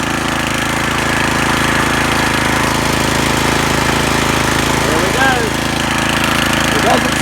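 A Cub Cadet RT 65 rear tine tiller engine runs steadily after a carburetor repair, a loud, continuous near mechanical drone with a rough, buzzing texture that holds even throughout.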